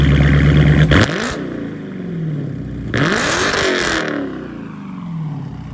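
A car with its mid mufflers removed and its resonators still in place revs loudly nearby. There are two sharp throttle blips with a raspy exhaust bark, each followed by a falling idle rumble.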